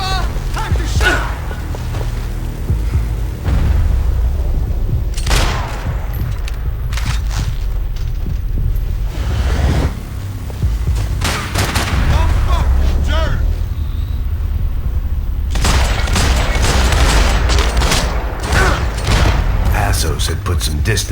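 Gunfire and explosions in Max Payne 3 come as repeated bursts of shots and heavy booms in clusters, loud and close, with game voices speaking between them.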